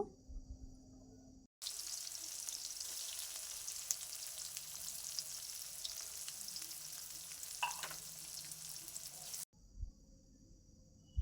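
Chopped onions sizzle loudly in hot mustard oil with bay leaf, whole garam masala and cumin, a steady crackling fry that runs for several seconds after they drop into the pan, close and continuous with no talking.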